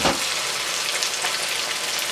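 Ground tomato and spices frying in a hot pan for chicken masala handi, a dense, loud, continuous sizzle with no voices.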